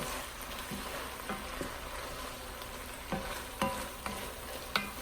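Cabbage fries in a very hot pot with sugar, a constant close sizzle broken by several sharp scrapes and knocks as it is stirred, with no voices.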